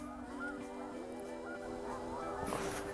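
Geese honk outdoors on a sunny snowy day, several nasal calls close together over a quiet background, the loudest burst near the end.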